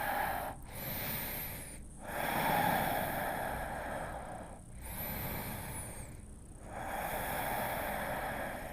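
Slow, deep breaths during a seated yoga hamstring stretch: two long airy inhales and exhales, each a soft hiss separated by brief pauses, close and quiet with no talk.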